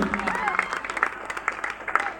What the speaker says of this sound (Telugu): All of you give a big applause to them.